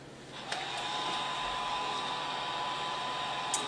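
A heat tool blows hot air onto encaustic wax on an artwork piece, a steady close whooshing hum that runs unbroken, with a couple of faint clicks.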